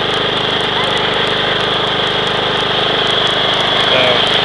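A lawnmower engine runs steadily and loudly close by through the whole stretch, a constant droning hum with no change in pace, recorded outdoors near a pile of cut firewood logs.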